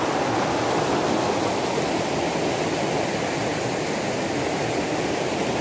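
A strong flow of water gushes from an opened irrigation outlet feeding rice paddies, a loud, even roar that holds steady and close with no talking.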